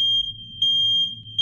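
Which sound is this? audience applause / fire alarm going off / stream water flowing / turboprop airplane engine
fire alarm going off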